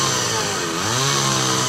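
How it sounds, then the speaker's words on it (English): A chainsaw engine runs steadily and loudly up close, its pitch rising briefly as the throttle opens, used as a sound effect in a radio advert. "You wouldn't operate a chainsaw blindfolded."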